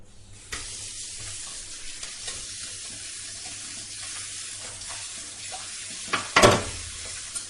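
Dishes being washed at a home kitchen sink in Andhra after breakfast, with steady running water and scrubbing clatter throughout and a louder splash or clank near the end.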